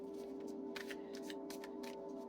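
Oracle or tarot cards are shuffled by hand, a run of soft quick riffling bursts repeating at a brisk rhythm, close and fairly quiet over a steady low hum.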